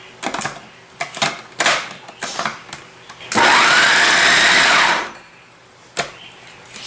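Electric blender whirring steadily for about two seconds, mixing almond paste with cinnamon, egg and orange blossom water as filling for cornes de gazelle, between quieter kitchen clatter.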